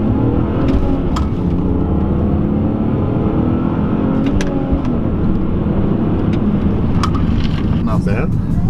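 BMW E46 with a manual transmission pulling away after a downshift into first, a loud steady engine drone filling the cabin from up close with some wind noise.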